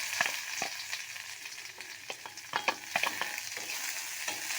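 Green chili and ginger sizzle in hot oil in a pan for gobi Manchurian, a steady frying hiss broken by a series of sharp spatula scrapes and taps, close and fairly loud, with no talking.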